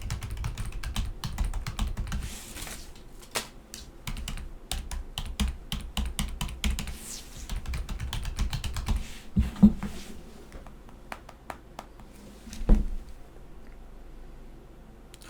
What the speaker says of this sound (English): Let's get these notes typed up.